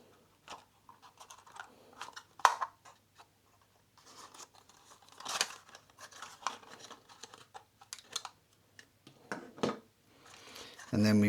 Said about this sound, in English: we've got the little bits of paper and the padding we can take off, protects the gimbal.